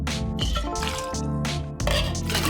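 Vodka is poured into a metal cocktail tin over muddled apple slices, giving soft liquid trickles and drips under a bed of background music.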